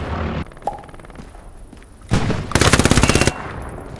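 Gunfire in the World War II shooter Hell Let Loose: a sharp single shot, then a loud rapid burst of automatic fire with evenly spaced cracks lasting under a second, over quieter battlefield ambience.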